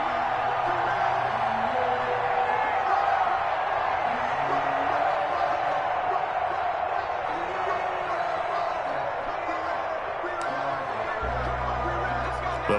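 A steady, dense crowd roar fills a football video game stadium during a San Francisco 49ers game, holding constant throughout with a voice faintly over it.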